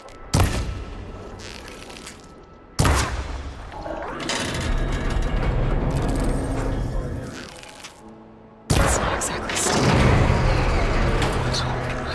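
Shots fired at a mechanical machine's arm coupling in Horizon Forbidden West, three loud sharp bursts, each followed by rumbling, grinding metallic mechanism noise and debris.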